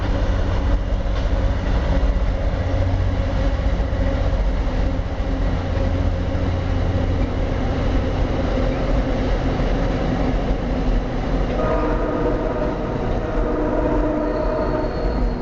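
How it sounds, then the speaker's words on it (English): An Amtrak train emerges from a railroad tunnel beside the C&O Canal, its heavy rumble and clattering wheels loud and continuous, with a faint squeal rising near the end. "There was Amtrak coming out of the tunnel."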